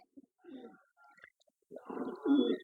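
A pigeon coos in a few soft, short phrases with brief gaps between them, close by and fairly quiet, ending in a fuller, louder coo.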